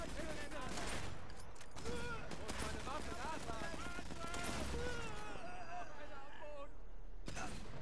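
Bursts of gunfire from the Sniper Elite 4 video game sound in quick clusters, fairly quiet and mixed under lively conversation between players.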